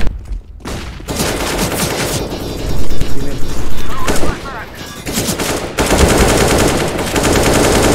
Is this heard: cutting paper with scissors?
no